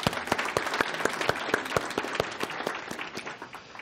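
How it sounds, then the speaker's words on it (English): An audience at a conference opening plenary claps to welcome the panelists, with many close, crisp individual claps forming a lively burst that tapers off slightly toward the end. "I'll just encourage you to give them a round of applause to welcome them before we start"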